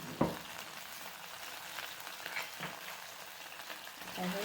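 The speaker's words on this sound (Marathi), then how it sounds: "थोडंसं तेलामध्ये परतवून घ्यायचं।" Ginger, garlic and green chili paste fries in oil with a soft, steady sizzle and occasional stirring scrapes, faint and close, with no talking.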